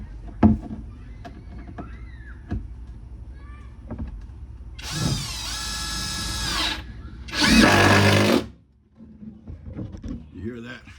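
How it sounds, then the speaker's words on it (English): Power ratchet tightening a fastener: two loud whirring bursts of a few seconds each, close by, after scattered clicks and knocks, with someone talking around them. "You hear that ratchet kick in?"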